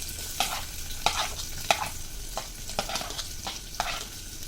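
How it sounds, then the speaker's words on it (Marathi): Onion sizzling in hot oil inside a pressure cooker for tempering, with a steady frying hiss broken by repeated sharp scrapes and clinks of stirring at a near, moderate level; no one speaks. "तेलामध्ये आता आपण कांदा घालूया फोडणीला"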